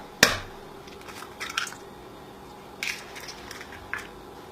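Egg, pumpkin puree and vanilla extract are mixed with a fork in a mug, giving a few soft, wet squishing and scraping strokes at uneven intervals, close and quiet with no talking.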